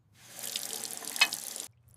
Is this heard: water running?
yes